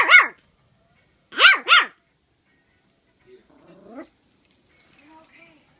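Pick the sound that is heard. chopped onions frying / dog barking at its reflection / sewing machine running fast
dog barking at its reflection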